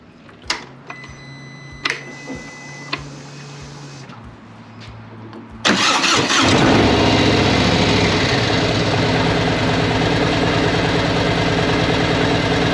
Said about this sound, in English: we're going to run it, get it warmed up here